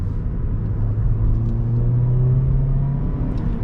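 A Ford Fiesta engine revving as the car accelerates in second gear, a steady loud low rumble with rising engine tone heard from inside the cabin.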